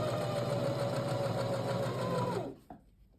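A sewing machine runs steadily as it stitches the bottom of a zippered pouch through main fabric and lining, with a continuous mechanical whir that stops abruptly near the end, followed by a faint click.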